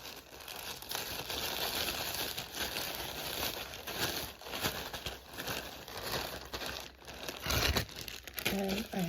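Plastic bag packaging crinkles steadily and close up as it is folded shut for a Vinted order, a continuous rustle lasting throughout with a sharper tearing burst near the end.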